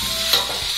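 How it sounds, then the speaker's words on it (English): Fried rice sizzles steadily and close in a frying pan, with a bright hiss and a quick stir partway through; no voices. "Sizzle, sizzle."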